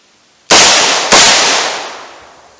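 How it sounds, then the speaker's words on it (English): Two loud, sharp gunshots from a .357 Magnum full-size revolver firing Hornady Critical Duty rounds, about half a second apart, each cracking hard with a long ringing decay, with no voices. "Pop off a couple of rounds."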